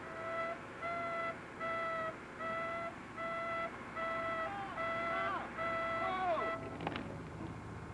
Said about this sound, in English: A backup alarm is a standard safety feature on this scraper